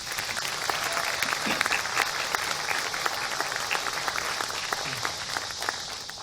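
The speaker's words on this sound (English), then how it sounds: "So I'll give them a round of applause, please." A community band concert audience gives a sustained round of applause, dense and even, with scattered sharper claps standing out and no talking.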